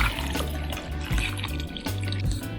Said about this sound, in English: Place enough water just to cover the potatoes.